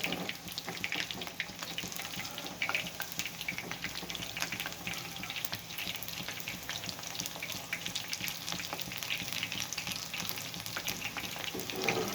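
Fish 65 pieces frying in hot oil, a continuous faint bubbling crackle with scattered pops throughout, heard alone without talk.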